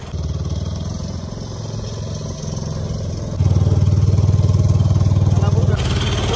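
A motorboat engine drones steadily through a beach boat ride, loud and close, with the revving growing heavier partway through while people talk over it.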